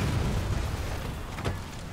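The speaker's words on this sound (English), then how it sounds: "The explosion's massive." A massive explosion in the Dead Rising 3 video game roars as a dense, loud rumble that fills the whole moment and slowly fades, with a smaller burst near the end and no talk.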